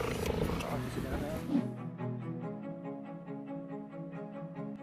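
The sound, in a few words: cheetah vocalizing happily on reunion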